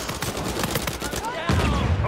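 Gunfire in an Uncharted 4 multiplayer match: rapid bursts of shots crackle through the first part, then a heavier, louder blast of firing takes over near the end, with no talk over it.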